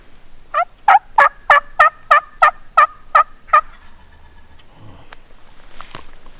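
A wild turkey gobbler in South Florida woods sounds off with a quick run of about nine evenly spaced, loud, rattling gobble notes, with a steady high insect drone behind it and quiet afterward.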